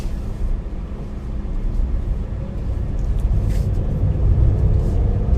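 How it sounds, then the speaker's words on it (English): A 2018 Suzuki Cultus (Celerio VXL) drives along a road, heard from inside the cabin as a constant low engine and tire rumble that builds slightly louder over time, with no talking. "now we are driving this Suzuki Cultus."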